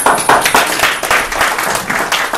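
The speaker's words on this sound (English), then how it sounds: "A round of applause for Lori and for Brian." An audience at a holiday networking event claps in a dense, lively round of applause that rises and falls in waves for a couple of seconds.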